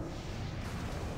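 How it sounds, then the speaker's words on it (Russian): A low, rumbling explosion from a video game bursts out briefly, a dull, fairly faint boom with a rough noisy tail and no voices over it. "Сейчас был первый взрыв"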